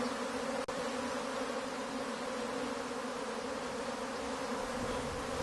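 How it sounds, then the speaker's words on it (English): A migratory honeybee swarm poured onto a sloping board at a hive entrance, giving a steady, dense, droning hum of many bees, close and continuous with a faint knock near the start and no talk. "the bees poured onto a sloping board leaning against the entrance"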